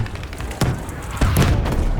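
Explosions in the World War II shooter Battlefield V: two heavy booms land about half a second apart, each a broad thud with a rumbling tail, over constant battlefield noise.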